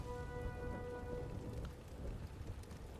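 Rain and thunder in the Sniper Elite video game: a steady, fairly quiet wash of rain on surfaces with a low distant thunder rumble underneath, no voices.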